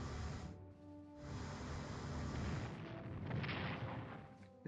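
Naval battle gunfire in the WWI strategy game Strategic Command: booming artillery blasts with rumbling, crackling decay, several heavy shots rolling into one another in a loud, dense barrage, with no talk over it.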